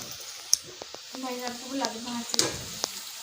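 Homemade French fries frying in hot oil, a soft steady sizzle with occasional sharp pops and clinks of a stirring utensil, while a person speaks briefly nearby.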